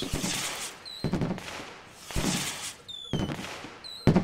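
Fireworks going off during a celebration in The Universim city-building game, a series of bursting pops and crackles in regular waves, with whistling rockets rising between the explosions.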